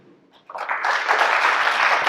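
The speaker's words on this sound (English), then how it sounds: "We're going to keep the applause to a minimum." A crowd at an election forum for county supervisor candidates bursts into applause after a brief quiet start, with the dense clapping holding steady and close to the end.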